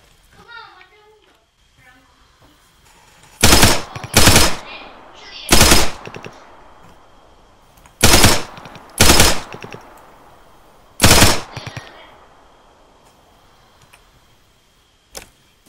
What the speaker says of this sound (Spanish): Tiré varios tiros